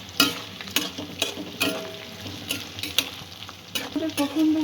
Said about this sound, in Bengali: সব কিছু একটু হালকা ব্রাউন করে ভেজে নেব।